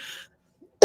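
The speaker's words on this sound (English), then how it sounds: "Please excuse the coughing." During a craft live stream, a person lets out a single short, close cough at the very end, after a brief stretch of quiet.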